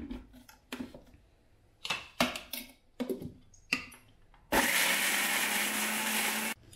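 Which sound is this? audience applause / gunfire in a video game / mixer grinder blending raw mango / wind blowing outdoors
mixer grinder blending raw mango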